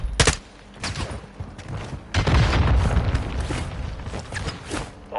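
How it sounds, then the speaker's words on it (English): A video game firefight with RPG blasts: a sharp boom at the start, then a heavier rumbling explosion midway, mixed with rattling gunfire and mechanical clatter, all loud and close. "Fucking RPG boss, they're killing me."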